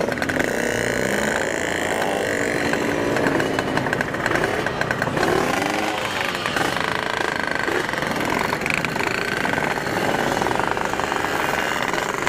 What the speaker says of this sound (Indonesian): Gila, motornya kencang-kencang banget, cuy.